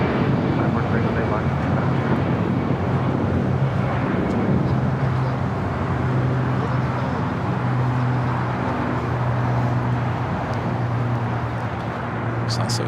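A Copa Airlines Boeing 737 MAX 9 in special livery taxies at Los Angeles International Airport, its engines giving a continuous low droning hum with a faint whine, steady and fairly close throughout.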